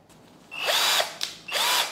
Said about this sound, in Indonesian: Nah, sekarang kita coba pakai mata bor kipas ya.